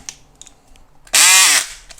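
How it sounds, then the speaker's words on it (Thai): A bit is pushed into the chuck of a Makita cordless drill and twisted, giving faint clicks and then a loud, steady whirring burst of about half a second with no speech. "ก็ปกติก็ใส่เข้าไป แล้วก็หมุนนะครับ"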